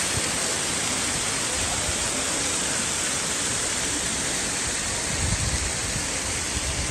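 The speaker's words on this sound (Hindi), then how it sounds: "मेरे सामने है रुद्रा वाटरफॉल।" Rudra waterfall on the Kedarnath trek roars as a loud, steady, close wash of falling water with no talking.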